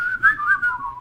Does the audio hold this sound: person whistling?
yes